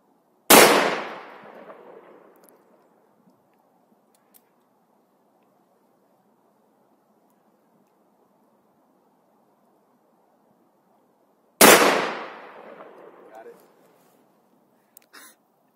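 Two loud, sharp gunshots outdoors, about eleven seconds apart, each followed by a ringing echo that fades over a couple of seconds, with quiet between them.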